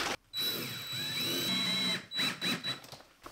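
Power drill whirring as it bores into a wall stud during a boy's room remodel, a short burst of about two seconds, then brief stop-start revs nearby.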